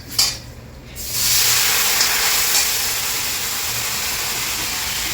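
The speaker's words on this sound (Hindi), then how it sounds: "ये छौंका लगा दिया मम्मी ने, जीरा डाला है, हींग डाली है।" Cumin seeds and asafoetida hitting hot oil as a tempering for kadhi, a sudden loud sizzle that bursts in after a soft clink and then holds as a steady close hiss and crackle.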